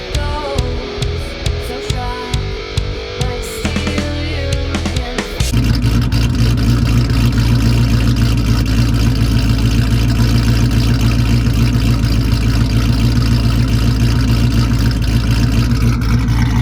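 A Ford Mustang BOSS 302 with a Cobra Jet cam idles close by with a choppy, lopey rhythm of uneven pulses, then the engine rises into a loud, sustained roar.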